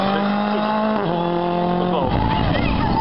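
A WRC2 rally car on a special stage of the 2013 ADAC Rallye Deutschland passes close by, its engine note loud with strong harmonics, dropping sharply in pitch at about one and two seconds as it goes by.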